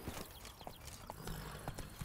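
Horse hooves clip-clop at a steady walking rhythm in the Witcher 3 video game, close and fairly loud, with no talking over them.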